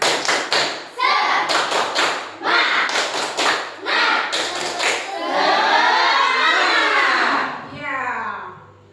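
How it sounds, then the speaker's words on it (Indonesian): Schoolchildren in a classroom perform a rhythmic clapping ice-breaker, bursts of sharp patterned claps and thumps in quick groups, followed by a long loud stretch of children shouting and chanting together before it fades. "Silakan, tepuk semangat."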